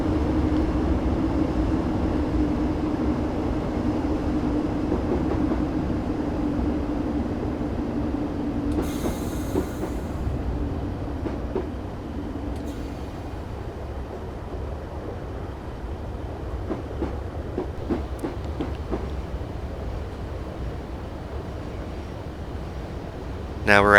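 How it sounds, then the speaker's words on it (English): A Class 150 diesel multiple unit brakes in Train Simulator 2015: a continuous low rumble that eases off, with occasional squeals and clicks from the wheels while someone speaks over it. "I'm now braking for the 20 mile per hour speed limit."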